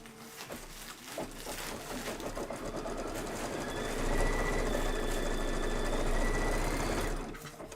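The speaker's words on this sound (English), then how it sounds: "And my machine's just stitching away." An embroidery sewing machine stitches green thread, a fast, steady mechanical rattle with a rhythmic clatter that grows slightly louder partway through and then stops.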